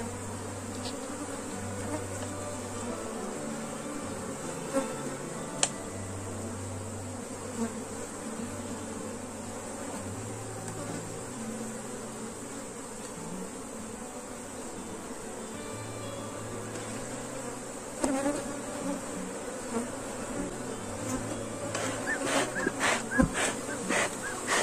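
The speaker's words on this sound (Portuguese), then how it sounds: "Se o enxame é agressivo, é só um detalhe, é só você não fazer divisão com esse tipo de enxame" A swarm of honey bees around an open hive: a dense, continuous buzzing drone fills the air, close and steady, with a few faint clicks and knocks of hive handling near the end.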